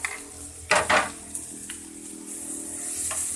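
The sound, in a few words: chopped onions frying in cooking oil in a pan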